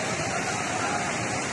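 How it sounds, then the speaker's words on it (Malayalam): A river rushes past a house in a landslide zone at Chooralmala and Mundakkai in Wayanad, a loud, steady broadband roar of turbulent water with no break, close by and alone. "ഈ വീടിന്റെ കങ്ങേ ഭാഗത്തു കൂടെയാണ് പുഴ പോണത്."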